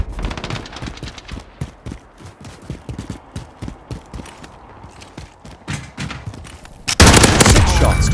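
A light machine gun fires in the video game Modern Warfare 2019, a rapid, steady rattle of shots that builds into a louder, denser roar of gunfire near the end.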